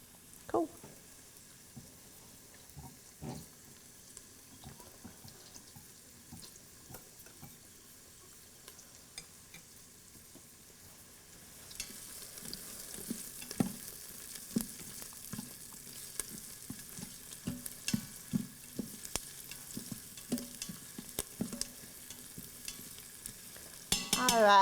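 Onions sautéing in an Instant Pot give a quiet sizzle with scattered scraping and knocking from a spoon stirring, growing busier and louder halfway through, with frequent close clatters.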